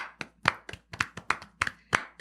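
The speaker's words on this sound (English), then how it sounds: "Can we clap again?" A few people clap their hands in an uneven burst of sharp, close claps, about a dozen over two seconds, with no speech.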